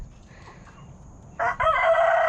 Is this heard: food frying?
no